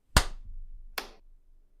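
Two sharp hand claps about a second apart, close and loud with a short room tail, made for syncing audio on a podcast recording, no voices.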